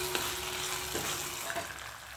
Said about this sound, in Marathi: आता हे वाटण थोडं फ्राय होऊ द्यायचं आहे